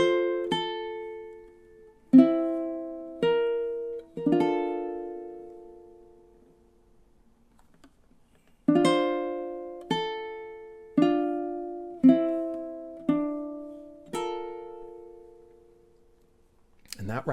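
A ukulele plays measures 22 to 25 of a song, a slow ballad of plucked chords that each ring and decay, with a pause in the middle before the chords resume.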